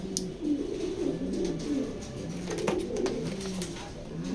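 A pair of racing Maxi pigeons coo close by in soft, rolling, throaty bursts that repeat throughout, alone and fairly loud.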